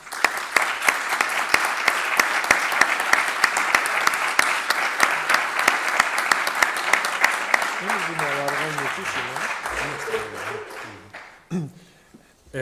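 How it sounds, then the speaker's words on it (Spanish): Sustained audience applause follows a lecture in a hall, loud and dense for about eight seconds, then thinning and fading, with a voice speaking over the tail end. "Profesor Escudero, estos aplausos son la muestra del reconocimiento, del cariño y el respeto que sentimos por ti"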